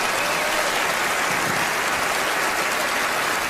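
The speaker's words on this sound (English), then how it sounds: "Give her a nice round of applause" A studio audience at a magic show breaks into dense, loud applause, continuous and even like heavy rain, with no talking over it.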